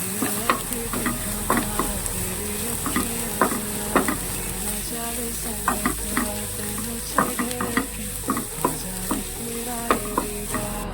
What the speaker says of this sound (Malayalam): സവാള ഇട്ടിട്ട് നന്നായിട്ടൊന്ന് വഴറ്റിയെടുക്കുക.